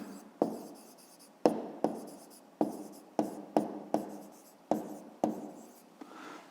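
A pen writes by hand on paper while a fifth-grade maths exercise is solved, producing a run of crisp scratching strokes, each starting sharply and trailing off, close and clear with no talk.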